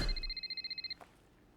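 A telephone rings in a film scene with a fast electronic trill of about ten pulses lasting just under a second, followed by a brief click, moderately near and without speech.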